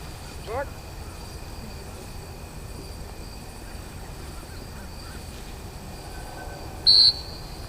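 One sharp, high dog training whistle blast at a retriever hunt test sounds near the end, brief and piercing, over faint outdoor background noise.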